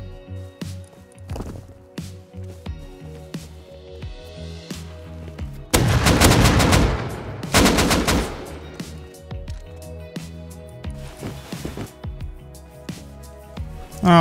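Rapid bursts of gunfire in the video game Rust, two sustained volleys in the middle separated by a short gap, with scattered single shots and clatter before and after.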